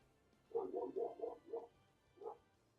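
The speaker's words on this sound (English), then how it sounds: "You can still hear the dog outside." A dog barks outdoors, heard faintly from inside: a quick run of five muffled barks, a short pause, then one more.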